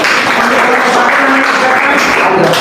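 A classroom of students in an Islamic religious education lesson applauds a group representative, producing a steady, dense wash of clapping that stays loud and even throughout.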